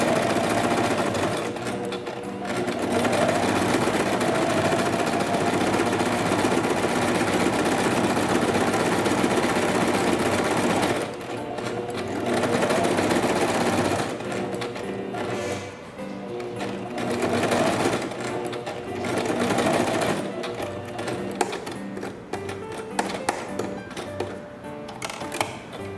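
A sewing machine stitches fabric for a dog's apron skirt, running in a steady fast whirring rattle for about ten seconds, then continuing in shorter bursts and stops, close and fairly loud.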